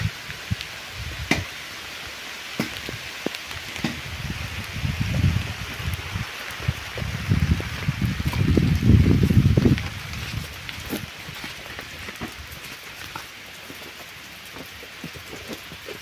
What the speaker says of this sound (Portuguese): E a chuva deu voltando. Tá ainda passando sereninha aqui, ó.